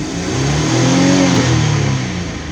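A camper van engine, not fully warmed up, revs hard while in park, a loud close rising roar that swells and holds before easing slightly.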